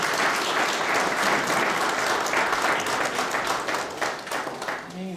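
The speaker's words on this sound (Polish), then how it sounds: "Wielkie brawa." Applause fills a hall at a ceremony where Gold Crosses of Merit are awarded, a dense, loud, sustained clapping from a large audience that begins to thin out just before a voice starts to speak at the end.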